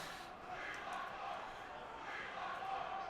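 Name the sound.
arena crowd chanting for more tournaments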